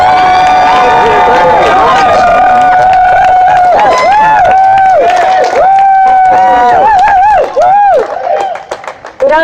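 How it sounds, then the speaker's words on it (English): A large unity rally crowd cheers and claps loudly, with many voices whooping and shouting over steady applause before it breaks off near the end. "everybody please put your hands together. The biggest cheer you've ever heard in your life"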